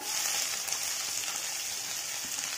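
Finely chopped onions fry in hot oil with cumin seeds, giving an even, dense sizzling hiss up close that runs without pause for the whole moment, with no talking.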